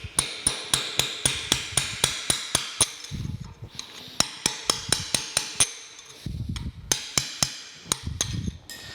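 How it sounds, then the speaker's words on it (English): Sharp metallic hammer blows strike a steel punch to drive out a bronze bushing from a broken casting in a boat workshop, dozens of quick, loud, evenly spaced hits in bursts with brief pauses between runs. "I'm going to see if I can drive the other side out first, just because I think I can get in there straighter with my punch"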